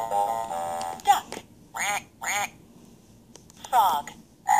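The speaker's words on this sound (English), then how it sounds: "Duck." A duck quacks several times in short, clear bursts, close and fairly loud, with a voice speaking briefly between the calls.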